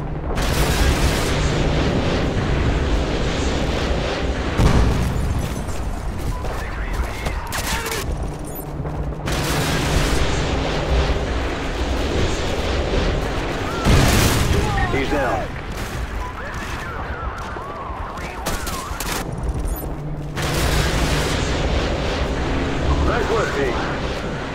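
Artillery explosions pound in Call of Duty Modern Warfare 2, a dense run of loud booms and crackling blasts over about twenty-five seconds, with radio voices talking over the barrage and a music bed underneath.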